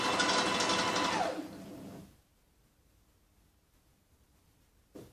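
A sewing machine runs steadily, stitching a fabric seam for a cowl-neck lehenga top for about two seconds before stopping, leaving near silence and one faint click at the end.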